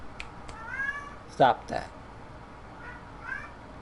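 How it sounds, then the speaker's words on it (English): A pet cat meows several times, thin rising calls near the mic, with one louder yowl in the middle, while a person speaks briefly over game audio in the background. "And now my cat is meowing."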